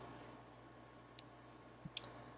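Two sharp, tiny clicks of a computer mouse, spaced under a second apart, close up over a quiet background hum.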